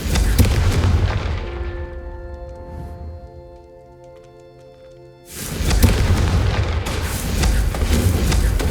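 A loud Confringo fire spell blast in Hogwarts Legacy bursts in a dense roar, fades into a ringing, tonal hum, then erupts again in a second heavy fiery blast that carries on to the end.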